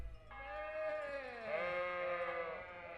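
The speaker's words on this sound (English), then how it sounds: "Did we wake up near the sheep?" Sheep bleat continuously in the medieval role-playing game Kingdom Come: Deliverance, a steady, wavering cry from one or more nearby animals lasting the whole stretch with no talk over it.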